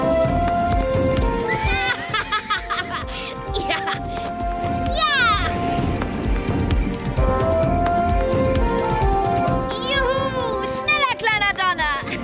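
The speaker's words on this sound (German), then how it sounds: "du bist das schnellste Pferd von allen" Cartoon horse galloping with clip-clop hooves and repeated whinnies over a musical score, with a voice and other voices speaking throughout.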